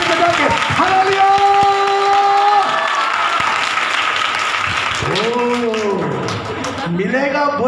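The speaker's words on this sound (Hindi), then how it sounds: "ताली बजा के, जोरदार ताली बजा के, जोरदार ताकत से ताली बजा के" A church congregation claps loudly during a Hindi Bible study. A strong, steady burst of applause runs under a preacher's loud, emphatic voice, which carries on as the clapping thins out.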